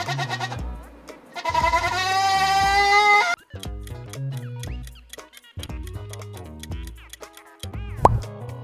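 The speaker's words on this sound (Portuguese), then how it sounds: "é da cabra." A goat bleats in several loud, wavering cries close by, mixed with a plucky, plopping melodic backing, with no talking.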